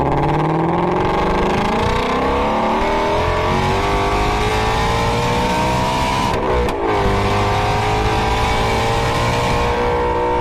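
A Shelby GT350R's naturally aspirated 5.2-liter Voodoo V8 revs loud and close, its pitch climbing steadily, briefly dropping off, then resuming, with no voices.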